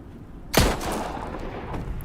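A single loud, close hand cannon shot in Ghost Recon Breakpoint, with a sharp crack followed by a rumbling echo that fades over about a second and a half.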